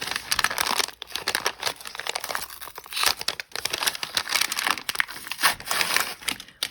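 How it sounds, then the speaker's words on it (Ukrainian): Close, continuous crinkling and tearing of a plastic package of manicure tools, with sharp rustles and crackles as it is pulled open. "Відкриваємо пакет"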